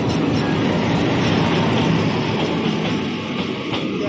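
A Jan Shatabdi Express train at a crossing, heard as a steady loud rumble of wagons rolling past with faint rhythmic wheel clicks, easing slightly toward the end.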